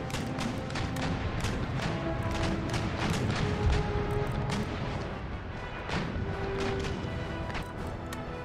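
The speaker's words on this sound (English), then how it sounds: "Start pumping round shot." Ship cannons firing round shot broadsides in Empire Total War, repeated booming reports and crashes over a continuous battle din, with a faint voice now and then.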